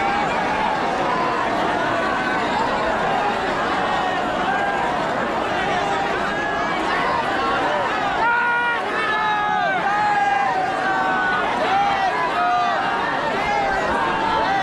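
A dense crowd of devotees pushes and jostles in front of a stage at Bageshwar Dham, filling the air with loud, constant babble and overlapping voices, a few raised shouts rising above the hubbub.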